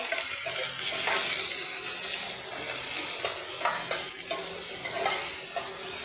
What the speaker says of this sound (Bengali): পেঁয়াজ দিয়েছি পেঁয়াজটা একটু ফ্রাই করে নিব